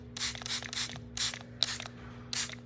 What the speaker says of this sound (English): Give it a good spray.